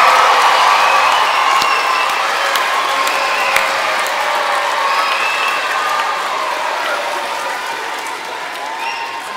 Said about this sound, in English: give Tim the most enormous cheer and a round of applause.